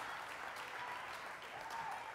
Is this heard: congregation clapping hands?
yes